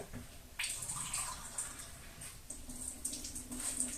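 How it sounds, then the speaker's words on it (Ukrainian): Warm water runs and splashes into a container, drawn for watering pepper seedlings, a soft, steady trickle with a few faint clinks, close by and fairly quiet. "Набираємо тепленької водички"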